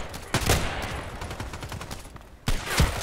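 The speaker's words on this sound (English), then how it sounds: "That is like an automatic rifle sniper or whatsoever." Rapid bursts of automatic sniper rifle fire in the online shooter Contract Wars, sharp cracks in two clusters separated by a short lull, loud and close with a faint voice underneath.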